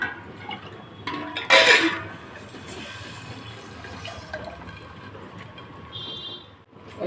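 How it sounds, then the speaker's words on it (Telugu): Water splashes into a cooking pot over fried sambar spices with a short, loud pour early on, then a lower steady trickle and faint kitchen clatter; no one speaks. "ఇలా 3 గ్లాసులు ఎసరు పోసుకోవాలండి"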